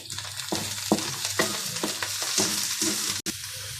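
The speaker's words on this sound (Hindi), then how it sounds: "तो यहाँ बहुत अच्छे से ये फ्राई हो चुका है।" Vegetables sizzle steadily in a hot pan while a utensil stirs and scrapes through them in short, repeated strokes, close up.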